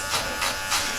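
Electric hair clippers buzz steadily during a low taper fade haircut, the loud whirring swelling slightly in a few pulses as the blades pass over the head.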